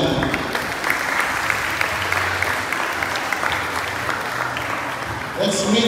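At a school's first-day-of-classes assembly, the audience applauds a staff member with a steady, full round of clapping that carries on throughout, and a voice cuts in near the end.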